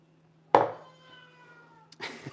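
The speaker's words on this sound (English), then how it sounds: "Let me tend to my cat" A domestic cat in a home kitchen gives a single clear meow that trails off, followed about a second and a half later by a shorter second meow, close by and fairly quiet, with a faint steady hum behind it.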